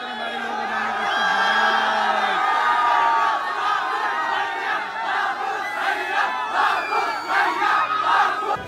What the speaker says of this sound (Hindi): ये भीड़ क्यों हो रही है?